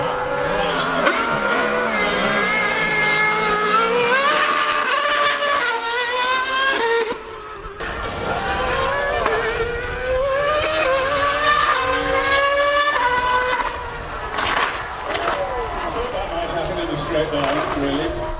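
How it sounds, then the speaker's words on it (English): An F1 car and a superbike in a drag race, high-pitched engines revving and rising through gears with a loud pass partway through, and voices talking over the roar. "We're going to try and do a bit of a drag race"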